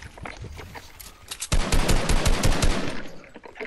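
Rapid automatic gunfire from a video game 1v1 match, starting as scattered shots and then bursting into a loud, sustained stream of rattling fire that continues to the end.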